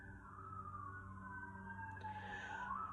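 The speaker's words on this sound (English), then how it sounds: "Sirens." A wailing emergency siren sweeps up and down continuously, fairly distant, over a steady low engine rumble.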